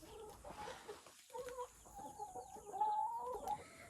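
Hens cluck softly in a coop near baby chicks, with low murmuring calls and a few higher peeps scattered through, faint and steady with no talking.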